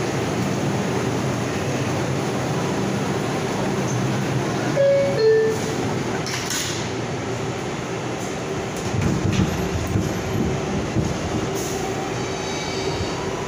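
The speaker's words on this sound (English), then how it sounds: "Going through the Brooklyn Bridge loop on the R142A." An R142A subway train on the 6 line rumbles steadily along the tracks through the Brooklyn Bridge loop, with brief wheel squeals and metallic screeches partway through.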